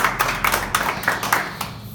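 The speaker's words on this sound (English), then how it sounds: "So round of applause," A small round of applause for a karting driver at a grand final results ceremony, a few people clapping in loose, uneven bursts, moderately close, no voices.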